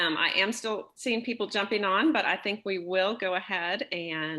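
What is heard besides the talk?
None of the usual background noises is heard.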